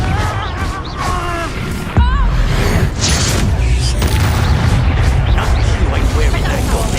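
Confringo fire spell blasting in the Hogwarts Legacy video game, a loud booming explosion burst around two seconds in amid rumbling combat effects, with a voice shouting over the action before it.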